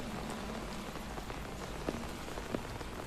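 Steady rainfall pattering on surfaces in a Batman Telltale Series game scene, a dense, even hiss with a few sharper drip taps, no voices.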